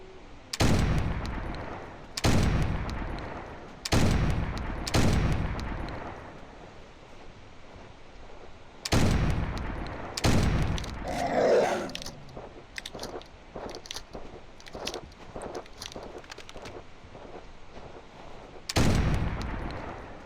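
Gunfire in a hunting video game set in a Siberian expedition: about eight loud, sharp shots spaced irregularly, some close together in pairs, over a steady low ambient bed with no talking.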